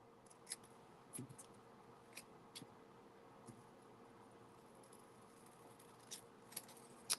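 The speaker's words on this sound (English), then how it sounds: "I think I'll just use my scissors and just kind of clean it up" Scissors snip around a paper sentiment at a crafting table, a handful of short, crisp cuts scattered unevenly over quiet room tone.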